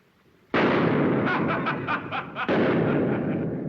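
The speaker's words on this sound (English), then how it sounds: "Fire again! Empty your gun!" Gunfire in a 1933 drama film: a sudden loud blast followed by a rapid string of reverberant shots, then a second heavy burst, close and booming with no talk over it.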